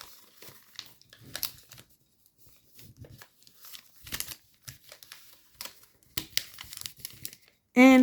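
Paper being folded for an origami fighter jet, scattered crinkles and soft creasing rustles in short bursts, close and fairly quiet, with a loud handling thump at the end.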